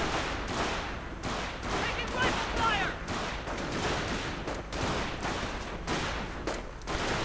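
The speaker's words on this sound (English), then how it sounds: "Quite a lot of fire getting exchanged right there." Gunfire in a war strategy video game battle with Panzer units: dense rapid bursts of shots and fusillades, overlapping and continuous, moderately loud, with a voice talking throughout.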